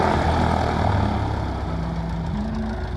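A propeller airplane flying a comedy act at the 2024 New Garden Airshow drones steadily and loudly, a continuous engine hum with layered tones that eases slightly as it goes, with no talking.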